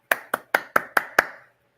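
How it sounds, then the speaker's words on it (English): Six sharp hand claps in a quick, even rhythm, close and loud with no talking, ending in a short fading tail. "Give you a little applause."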